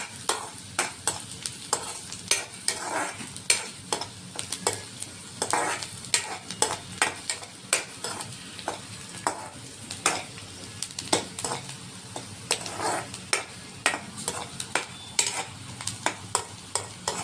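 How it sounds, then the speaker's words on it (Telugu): Onions sizzle and fry in a pan while being stirred, a soft steady crackle broken by frequent sharp clicks and scrapes of a utensil against the pan, with no voices. "ఆనియన్ మనకి ఈ మాత్రం ఫ్రై అయినా చాలు."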